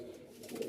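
A pair of white high-flyer pigeons gives a short, soft coo, faint and close, with no other sound around it.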